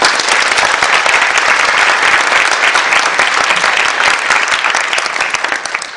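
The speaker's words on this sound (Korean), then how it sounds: "공감을 하시면 박수 한번 부탁드립니다." A talk-concert audience in a hall bursts into sustained, dense applause that holds steady at full loudness for the whole stretch, many hands clapping at once with no voices over it, easing slightly only at the very end.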